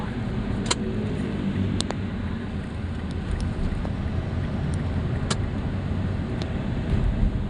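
Busy Saturday road traffic near a sports school in Chonburi, a steady, dense roar of passing cars with constant low rumble and occasional faint higher clicks, no voices.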